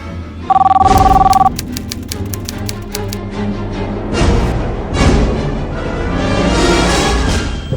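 A telephone bell rings in a short, rapid burst near the start, followed by busy clattering and background noise.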